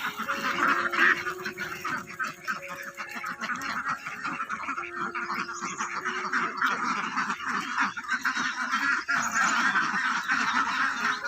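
Startled egg-laying ducks quack and honk continuously in a noisy flock, many overlapping calls close by and loud throughout.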